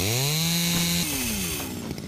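A chainsaw in the game House Builder revs with a loud, steady engine drone, then drops in pitch as it bites into wood.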